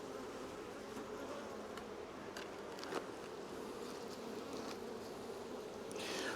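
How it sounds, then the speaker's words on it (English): Honey bees drone in a steady, dense hum from a hive that has just been smoked, the buzzing continuous and fairly close throughout with a few faint clicks and knocks on top and no talking. "That's what the bees are doing when you smoke them."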